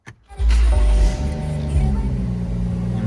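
A BMW M140i Shadow Edition fires up from inside the cabin: a brief starter whirr, then a loud surge as the engine catches and revs, settling into a steady, deep idle rumble.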